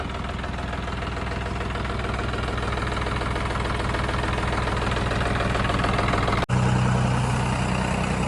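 A modified John Deere 5210 turbo tractor engine runs at a steady, loud idle with rapid low knocking pulses, close up. A brief sharp dropout comes near the end, then the engine continues with a fuller, deeper hum.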